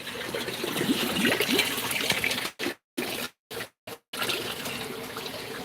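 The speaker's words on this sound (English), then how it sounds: "for some reason, from time to time, as you can see, look, we've got drips" Water splashing from a leaking Evolution Aqua outlet on a koi pond: a steady, close trickling wash that cuts out briefly several times, with no talk.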